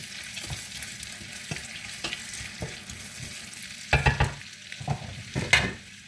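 Onions and hot fresh pepper stirred in a pot over heat for red oil rice, soft sizzling with periodic spoon scrapes that grow louder and clatter toward the end, no talking.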